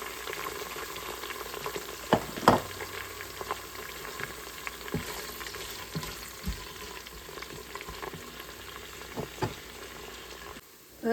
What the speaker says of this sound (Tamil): சின்ன வெங்காயம் வதங்கி கொண்டிருக்கு